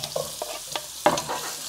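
Onions and ginger frying in a pan for bhindi masala, with a few scraping stir strokes and a soft sizzle over about two seconds, close and moderately quiet.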